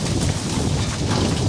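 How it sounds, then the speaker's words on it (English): A sudden heavy hailstorm pounds down outdoors near a chicken hoop house, a dense, hissing roar of hard impacts with a deep rumbling undertone, loud and unbroken. "That's just huge hailstorm coming out of nowhere."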